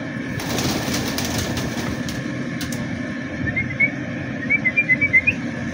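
A young pigeon calling outdoors in the early morning, with a few soft rhythmic coos and whistly notes near the end over a low steady background hum.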